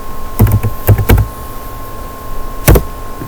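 Keys on a computer keyboard clack close to the microphone in two short bursts of quick taps, a cluster of about half a dozen strokes, a pause, then a couple more, over a faint steady hum.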